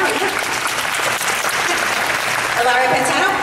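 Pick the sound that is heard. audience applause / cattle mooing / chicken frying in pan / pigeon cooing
audience applause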